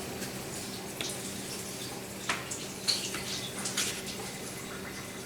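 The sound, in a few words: hands being washed under a running tap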